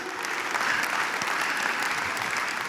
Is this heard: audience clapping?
yes